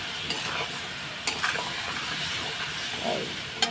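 Spices are sautéed in a pan with a splash of water before the vegetables go in, producing a continuous moderate sizzling hiss with occasional stirring scrapes and no voices.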